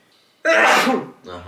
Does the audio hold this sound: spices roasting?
no